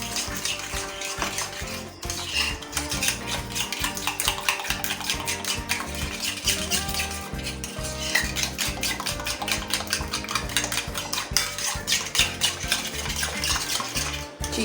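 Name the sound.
whisking cream and sugar together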